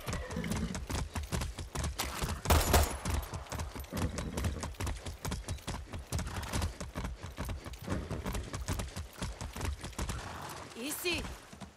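Horse hooves clip-clop in a steady, rapid rhythm through a Far Cry 6 video game scene, close and distinct, with brief speech over them and a faint whinny near the end.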